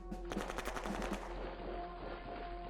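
Rapid machine gun fire in the strategy game Shadow Empire, a fast burst of repeated shots for about a second, then a fading rumbling tail with no talk.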